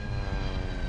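An airplane in flight carrying passengers, its engine a loud, steady, unbroken drone that fills the whole second with no voices.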